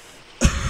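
A single abrupt, loud cough bursts out near the end after a quiet background hum, close to the microphone.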